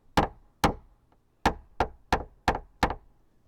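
Sharp, distinct knocks from paintless dent repair tapping on a Tesla Model S panel, seven crisp taps in an uneven rhythm with a short pause after the second, close and clear with no talk.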